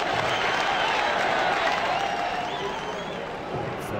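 Continuous crowd applause in a PDC World Championships darts video game on Xbox, a dense, even wash of clapping and cheering lasting the whole clip.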